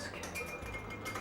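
A whisk clinks and scrapes against a bowl while mixing a vinaigrette of Dijon mustard and red wine vinegar, quick light metallic taps and rubbing, close and fairly quiet, no voices.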